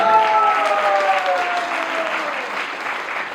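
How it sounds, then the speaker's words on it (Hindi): Loud crowd applause, a dense wash of clapping with a faint tonal voice or whistle trailing through it. "वो जोरदार तालियां हो जाएंगे"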